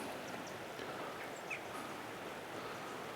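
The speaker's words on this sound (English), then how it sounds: "The sound of birds and the little river." Birds chirp faintly in short, scattered calls over a soft, steady rush of flowing water from a small river on a North Sea coast walk, all distant and low in level, with no talk.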